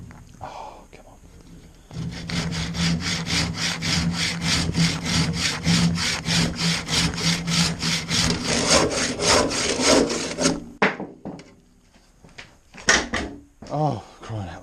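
A hand saw cuts through wood in a workshop with a long run of fast, steady back-and-forth strokes, close and rasping. The sawing then stops, followed by a few scattered knocks and handling noises.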